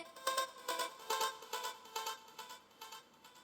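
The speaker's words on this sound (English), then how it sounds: "the other thing that makes that chop interesting is the delay that we have on it" A chopped vocal sample in a contemporary hip hop sports cue fires in short rhythmic stabs, each followed by fainter stereo delay repeats that fade out across the bar.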